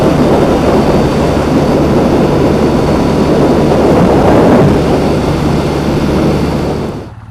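A 2014 Triumph Bonneville motorcycle riding fast in top gear, loud steady engine drone mixed with heavy wind rush, continuous and close before fading slightly at the very end.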